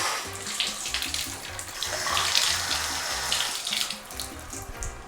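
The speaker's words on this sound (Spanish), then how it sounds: "Vamos a probar la ducha, cosa importante también" Water runs steadily from a shower during a house inspection in North Carolina, a continuous close splashing stream with no talking.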